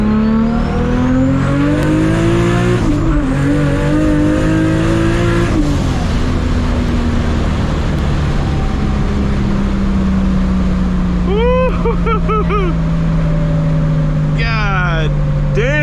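A 1000HP Toyota Supra MK4 pulls hard under turbo boost, its engine screaming close and loud as revs climb, break at each gearshift and climb again, with turbo whoosh and wastegate chatter as people talk over it.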